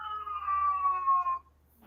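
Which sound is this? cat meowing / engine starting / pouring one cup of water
cat meowing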